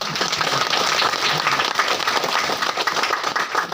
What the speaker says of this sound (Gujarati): એકવાર જોરદાર તાળી